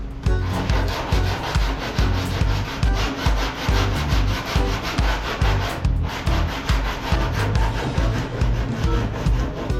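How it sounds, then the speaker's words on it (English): Coarse 40-grit sandpaper rasps back and forth in a fast, steady rhythm on car bodywork, loud and close, with no talking. "So I'm doing the best I can with this 40 grit"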